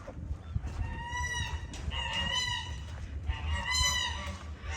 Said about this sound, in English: We're gonna check out the chicks. So over here, we have a rooster.